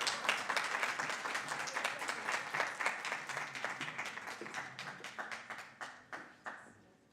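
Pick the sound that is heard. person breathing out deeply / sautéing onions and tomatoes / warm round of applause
warm round of applause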